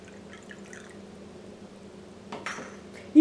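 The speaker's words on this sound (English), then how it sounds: "We can now pour the water into the lower chamber just below the safety" Water is poured into the lower chamber of an espresso coffee maker, heard as a faint trickle and a few small drips, rising to a brief louder splash near the end.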